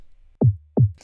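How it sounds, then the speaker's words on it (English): Two synthesized tom hits, each a punchy pitched thump dropping in tone, spaced evenly apart and isolated against silence. "the tom sounds like this"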